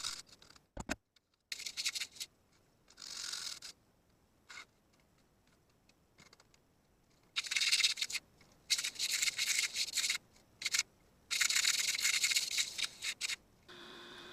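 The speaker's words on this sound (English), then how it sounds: "using my level to screed out any low spots to maintain the proper slope" Scraping strokes of a level screeding mortar across a shower floor, irregular rasping bursts of varying length separated by pauses, close and fairly quiet.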